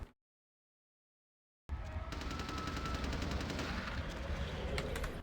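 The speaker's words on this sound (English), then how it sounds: "that gunfire was really loud" Rapid bursts of automatic gunfire in the game Vampire: The Masquerade – Bloodlines begin after a moment of silence, loud and continuous, with sharp cracking shots over a rumbling game backdrop.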